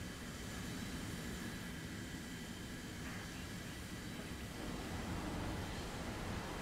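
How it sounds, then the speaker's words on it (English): Warplanes roaring past in War Thunder, a dense continuous engine drone that stays loud and steady throughout with no break. "Fucking planes"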